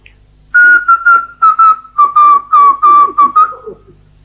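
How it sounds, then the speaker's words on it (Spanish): A series of about ten short, clear whistled notes at a steady pitch, loud and close, with no talking. "¿Qué es eso? ¿Un silbido?"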